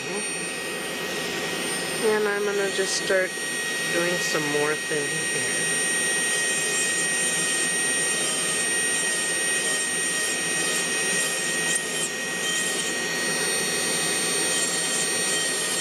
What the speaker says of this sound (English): Turn my uh, dust collection system on, the Tornado 1000